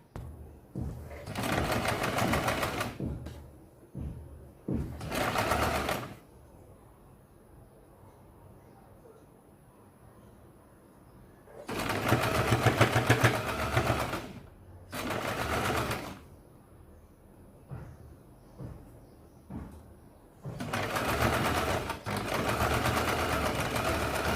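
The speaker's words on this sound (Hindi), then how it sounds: "यहाँ पे आपको इस तरह से इसके ऊपर सीधी सिलाई लगानी है" Sewing machine stitching straight seams on baby frock fabric, running in several loud bursts of rapid whirring separated by pauses where someone talks.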